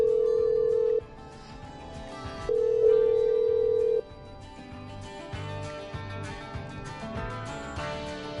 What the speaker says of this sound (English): I'm dialing.